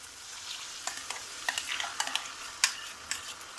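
Tomato onion paste frying in a pan for a paneer masala curry gives a faint sizzle, broken by scattered spatula scrapes and light clinks against the pan.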